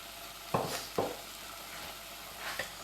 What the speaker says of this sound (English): give it a mix, make sure everything is combined